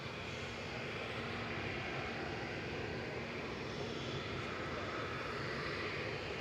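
A Boeing 787-8 arriving from Glasgow passes low over the runway threshold at Manchester Airport, its engines a steady, broad roar with a faint tonal hum, holding constant and fairly close throughout with no talk.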